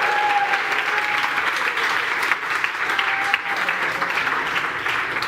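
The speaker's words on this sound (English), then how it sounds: "What about the applause?" An audience at a Climathon event in Bratislava claps steadily, sustained applause that fills the room, fairly loud and continuous, with a faint voice under it.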